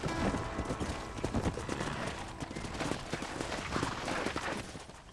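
Horse hooves clip-clop steadily through a Red Dead Redemption game scene, a continuous rhythmic trot mixed with ambient game sound and no speech.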